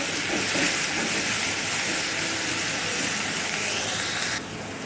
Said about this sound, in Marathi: कांदा आपला फ्राय झाला आहे.